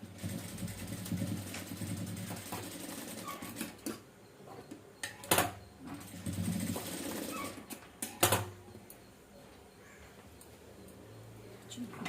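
A sewing machine stitching a blouse piece, running in short bursts of whirring stitches with pauses and a few sharp knocks, fairly quiet and close.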